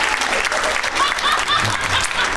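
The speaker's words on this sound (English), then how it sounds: "Clap your hands if you do not have kids" Comedy club audience clapping on cue during a stand-up set, a dense, steady wash of applause throughout with crowd murmur beneath.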